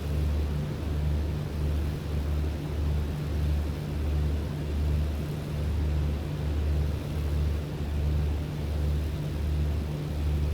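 The steady propeller engine drone of a BN2 aircraft in Microsoft Flight Simulator 2020, a constant low throbbing hum with a regular pulsing beat, heard alone without voices.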